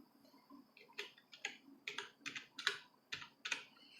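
Typing a roll number on a computer keyboard, a quiet sequence of separate key clicks with uneven rhythm over faint background, no talking.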